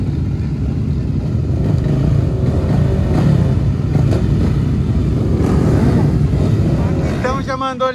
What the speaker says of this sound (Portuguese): todos os pilotos ligando os motores